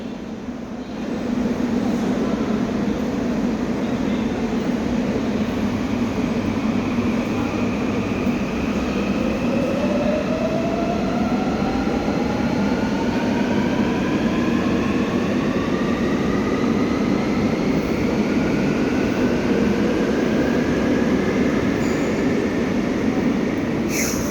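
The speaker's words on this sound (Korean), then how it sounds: "이렇게 해서 인천 지하철을 타봤습니다" An Incheon Subway Line 1 train ride heard from inside, a loud steady rumble of wheels and running gear with a rising motor whine as the train accelerates.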